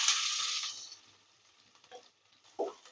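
A tempering of mustard seeds, cumin, chana dal and urad dal with onions gives a loud burst of sizzling hiss at first. It fades quickly into quiet stirring with a few soft scrapes.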